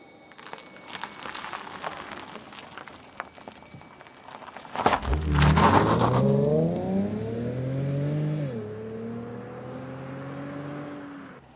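Infiniti M35h hybrid saloon pulling away hard: the engine note swells suddenly and climbs steadily in pitch, dips briefly at a shift, then keeps rising, loud and close.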